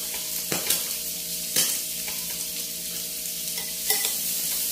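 Food sizzles steadily on a single grill over a gas stove, a continuous close hiss punctuated by a few sharp clacks and scrapes of utensils stirring and turning, with no talking.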